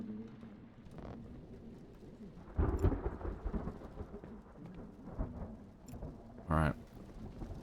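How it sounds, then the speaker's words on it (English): Heavy rain pours steadily in the video game Twelve Minutes, with a low rumble of thunder rolling through the middle and a brief loud crack near the end; someone speaks briefly over it. "Heavy rain."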